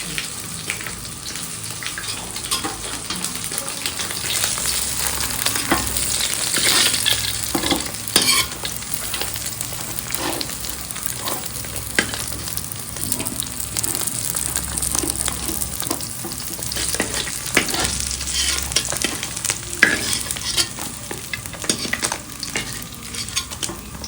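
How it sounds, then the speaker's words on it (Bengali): Fish sizzles steadily in hot cooking oil for the whole stretch, with a dense, continuous crackle and occasional scraping from stirring. No one speaks. "ভাজা হয়ে গেছে মাছটা এবার তুলে নিচ্ছি"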